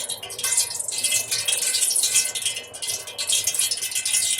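A chicken tender is rolled through a dry coating, giving a continuous gritty rattling and rustling that swells and dips in uneven waves, close and fairly loud, with no voices.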